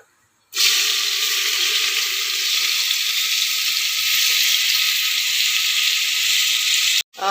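After a brief pause, a loud, steady sizzle of onion frying in hot oil runs continuously before cutting off near the end.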